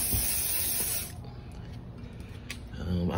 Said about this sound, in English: Just spraying down these.